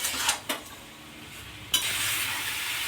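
Elephant apple pickle with chili-ginger paste and salt is stirred in a pan. A few scraping clinks of the spoon sound over a soft sizzle, and a louder scrape leads into a fuller hiss. There is no talk.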